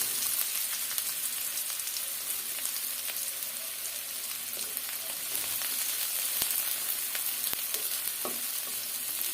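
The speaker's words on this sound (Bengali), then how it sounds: "তেল দিয়ে দিলাম একটা পেঁয়াজ দিয়ে দিলাম" Onion frying in hot oil in a pan, a steady close crackling sizzle with scattered pops and occasional stirring clicks, continuous throughout.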